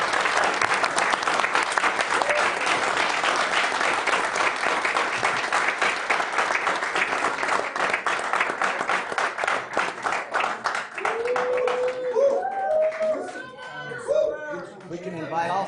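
Sustained applause from a city council meeting audience honouring coaches, dense clapping that rolls on for about twelve seconds before thinning out as voices and chatter take over near the end.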